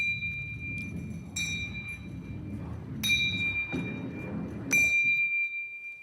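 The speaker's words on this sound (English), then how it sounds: "So we should hear the bells ringing at equal intervals in time." A ball rolls down a ramp in a Galileo-style gravity demonstration, its low rumble broken by clear bright bell dings at even intervals, with a faint tap before them, each ring lingering briefly.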